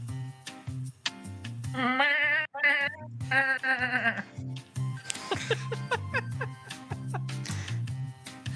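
A person imitates a goat, producing a string of wavering, voiced bleats in bursts with brief breaks, fairly loud and close, followed by choppier broken bleating sounds.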